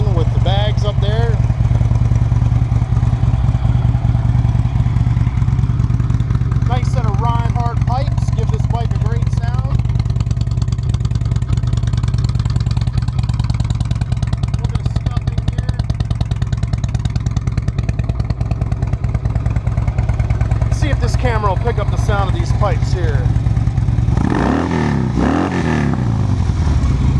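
A 2011 Harley-Davidson Electra Glide Ultra Limited FLHTK touring motorcycle with 19,261 miles idles with a steady low rumble throughout, loud and close, with a brief rev near the end.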